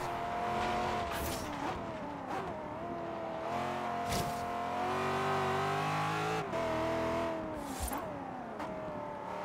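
A Mercedes C63 AMG engine in Forza Horizon 3 revs and shifts through gears, its droning note rising and dropping repeatedly, with occasional tire squeal and thumps over about nine seconds.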